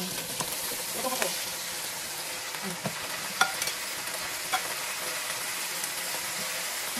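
Pork meat going into a pot for pork nilaga, giving a soft continuous sizzle and hiss with a few scattered clinks and stirring knocks, fairly faint and close.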